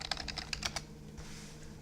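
About eight quick, close keystrokes tap on a computer keyboard as a username and password are entered, then stop, leaving a faint background hum.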